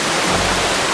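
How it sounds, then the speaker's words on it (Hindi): Water rushes into a house as a loud, steady broadband roar, like a torrent pouring in close by, with no voices. "उधर देखो जी, पानी अंदर आ रहा है"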